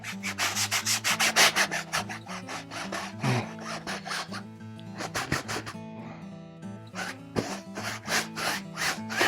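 A brush scrubs oil paint across canvas in rapid, close, rhythmic rubbing strokes that pause briefly and resume, with music playing underneath.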